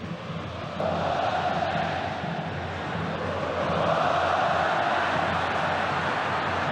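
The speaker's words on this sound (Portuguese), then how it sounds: "Vamos ouvir a torcida do Atlético no Mineirão." Atlético Mineiro supporters roar and chant at the Mineirão stadium during a 2009 Brazilian league football match against São Paulo, a steady, dense wash of voices swelling louder toward the end.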